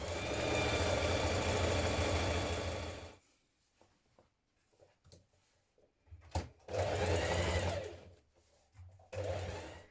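Close, loud sewing machine runs in two long bursts and a short final one, stitching along a trouser pocket welt, with quiet handling clicks in the pauses between.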